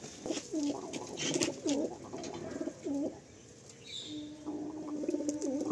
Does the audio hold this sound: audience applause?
no